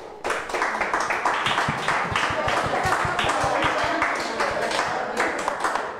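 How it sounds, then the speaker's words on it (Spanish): Dense, steady applause from a Mother's Day gathering crowd in Biblián, Ecuador, with sharp rapid hand claps running continuously for several seconds, close and loud. "Un aplauso, por favor"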